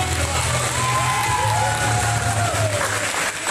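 Wrestling show crowd on its feet applauding: sustained, even clapping from a large audience with scattered cheers and a commentator talking faintly over the noise.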